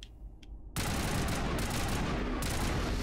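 Assault rifle fire in the Mass Effect video game, a sudden loud burst of rapid automatic shots that starts abruptly after a near-silent moment and continues densely to the end.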